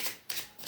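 Tarot cards are shuffled in a few quick, close riffling bursts, each a crisp papery flutter separated by brief pauses.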